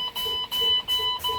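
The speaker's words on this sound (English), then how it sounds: "when it reaches 60 psi, you should hear an audible tone and flash of lights" A truck cab's low air pressure warning sounds as a steady electronic beeping tone, repeating in three pulses with short gaps in under two seconds.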